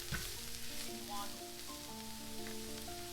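Leeks and cabbage frying in butter with garlic in a pan, a steady close sizzle and crackle that continues without a break, with faint tonal sounds in the background.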